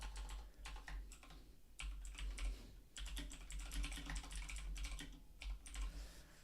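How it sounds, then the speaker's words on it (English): Steady, fairly quiet clicking from fingers typing on a computer keyboard, in bursts separated by brief pauses. "I'm just typing out English between these two quotes"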